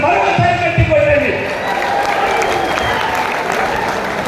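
Audience applause at a felicitation ceremony for a minister in Karimnagar, loud and dense at first, then settling into a steady, sustained clapping.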